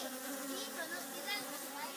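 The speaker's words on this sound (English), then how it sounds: "leaf cutter bees raiding" Leaf cutter bees buzzing close by, a steady high droning hum with small shifts in pitch as they fly about.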